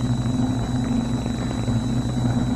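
Aircraft engines drone overhead as a radio drama sound effect, a continuous low, throbbing hum with a steady high whine layered on top, loud and unbroken throughout.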